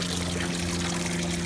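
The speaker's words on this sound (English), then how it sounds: "There's the waterfall." The waterfall of a garden koi pond splashes as a continuous, fairly loud rush of falling water, steady throughout the short stretch.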